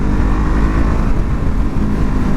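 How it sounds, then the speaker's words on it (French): A 2017 Honda CBR 500 R twin-cylinder motorcycle engine running loud and close, a dense continuous rumble with slight fluctuations in pitch, no voices over it. "c'est un moteur en bicylindre qui fonctionne plutôt bien. On a du couple à partir de 3000 tours minute"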